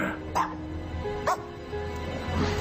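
A dog gives two or three short barks and yips over a steady low background hum, brief sharp bursts spaced about a second apart at moderate distance.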